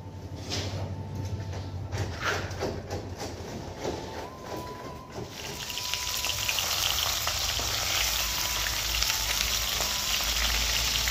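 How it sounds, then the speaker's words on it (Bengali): Fish frying in a pan for a home-cooked lunch, with a steady hiss of oil that swells louder and fuller partway through, broadband and continuous, with faint clatter earlier on. "প্রথমে মাছগুলো ভেজে নেব"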